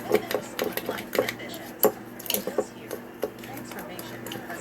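Mixed nuts being stirred through a soy sauce seasoning in a bowl or pan, giving a run of close, irregular clinks and scrapes from a spoon, with speech over the top.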